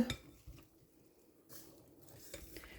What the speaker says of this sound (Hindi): इसको अच्छी तरह से हम करते हैं मिक्स